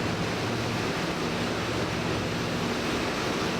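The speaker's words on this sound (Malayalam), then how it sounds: "വലിയൊരു അണക്കെട്ടിൽ നിന്ന് വെള്ളം തുറന്നുവിടുന്നത് പോലെയുണ്ട് ജെറ്റ് എഞ്ചിനുകൾ പ്രവർത്തിക്കുമ്പോഴുള്ള വെള്ളത്തിന്റെ തള്ളൽ" Double-hulled jet-engine catamaran racing out to open sea off Tanzania, its jets churning a constant, loud rushing wash of water like a dam release, dense and unbroken with no voices.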